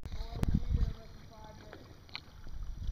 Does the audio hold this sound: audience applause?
no